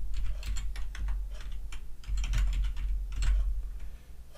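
Steady typing on a computer keyboard while entering MQTT settings for a Raspberry Pi server, a continuous run of close, crisp key clicks with brief pauses around two and four seconds, no voices.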